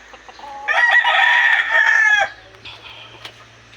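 A rooster crows once, loud and close, a drawn-out call followed by softer clucking and faint background noise.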